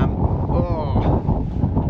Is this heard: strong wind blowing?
yes